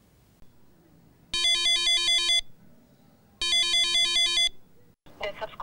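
Ringback tone of a call to a phone that goes unanswered: two long, loud, evenly pulsing electronic ring bursts separated by a pause, then a short burst of other noise at the end.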